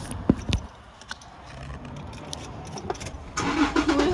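A car engine turns over and catches near the end, after a few clicks and thumps and a stretch of low outdoor rumble, then settles into a steady idle.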